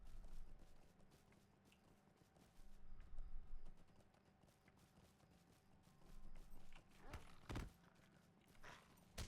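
A horse's hooves clip-clop in The Lord of the Rings Online, a quiet irregular walking beat with some clunky mechanical game noises and a louder thud near the end, faint overall and without speech.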